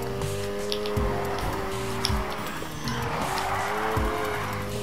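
A car handbrake-drifting in the racing game Need for Speed Heat, with a loud sustained engine roar and long tire squeals that rise and fall through the slide, continuous and close, no talking.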